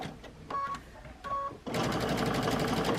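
A sewing machine stitches red thread around an appliqué leaf on a mug rug, starting with a few short taps and then running in a steady, rapid, close-up chatter.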